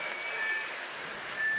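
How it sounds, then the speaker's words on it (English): At an IFSC men's World Cup bouldering final in Brixen, the time buzzer sounds as faint, distant beeping tones under a wash of crowd noise. "You can hear the buzzer going in the background."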